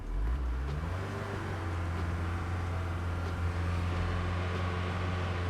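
A military 1988 Mercedes 240GD diesel engine drones loud and steady at close range as it churns in sand, its pitch rising briefly at the start, with no voices.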